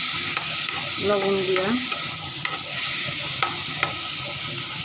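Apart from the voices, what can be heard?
shrimp frying in a pan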